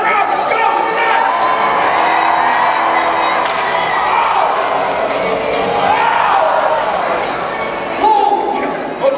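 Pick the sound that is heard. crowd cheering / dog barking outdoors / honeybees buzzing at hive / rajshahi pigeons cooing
crowd cheering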